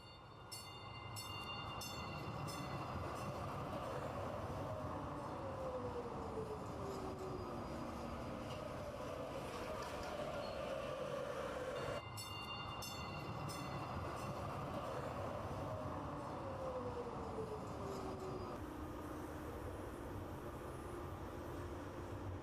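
A moving passenger train rumbles continuously with steady rolling noise and faint mechanical whines sliding in pitch, heard from inside at a moderate level with no speech.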